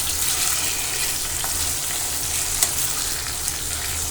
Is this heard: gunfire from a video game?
no